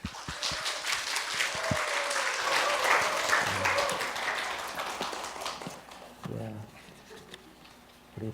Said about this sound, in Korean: 나오실 때 다시 한번 사랑의 박수로 환영할까요?